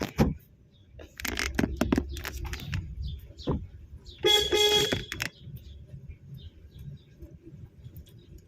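A car horn sounds in short honks, with a denser burst around the middle, in a street driving lesson for beginners. It comes over road noise and engine hum, with faint birds and other traffic around.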